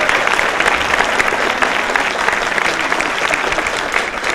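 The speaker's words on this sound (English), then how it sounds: "So let's give them a round of applause." A crowd at a 2013 mayoral inauguration address applauds students, steady dense clapping that holds at full strength throughout with no voices on top.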